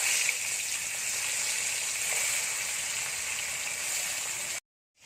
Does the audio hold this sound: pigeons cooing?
no